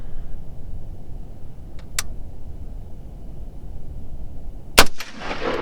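A Palmetto State Armory Gen 2 AR-10 in .308 with a 16-inch BCA barrel fires one sharp, loud shot at 50 yards outdoors over low wind rumble, preceded by a few faint clicks.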